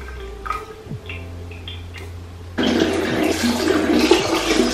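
Running water splashing steadily after a short quiet stretch as a face mask is rinsed off during a skincare routine, close and continuous, with no talking.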